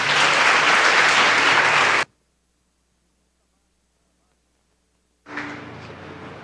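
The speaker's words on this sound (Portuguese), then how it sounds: "Você pode aplaudir essa palavra?" A church congregation claps during a Christmas service, a dense, full burst of applause for about two seconds, then sudden silence, then clapping returning a little softer near the end.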